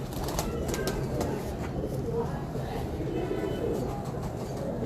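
A pigeon kept for pigeon flying coos softly against a dense bed of low rumbling background noise, with faint flapping and possible murmured voices nearby.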